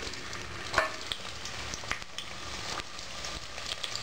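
Onions sizzle in hot oil with bay leaf, cardamom and cloves for a Bangalore-style donne biryani, giving a steady close crackling hiss with a few sharper pops and stirring scrapes, and no voices.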